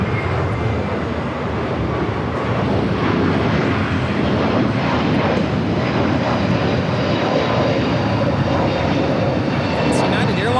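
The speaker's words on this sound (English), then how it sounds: "It's United Airlines 2487 taking off to Chicago on the A321 Neo." United Airlines Airbus A321neo taking off at LAX, a loud, continuous engine roar that swells gradually across the stretch while a voice talks over it.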